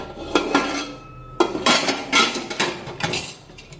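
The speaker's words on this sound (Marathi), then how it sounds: "आता कुकरचं झाकण लावूया" Several sharp metallic clanks and clatters of a pressure cooker lid being set and locked in place, close by, with brief pauses between.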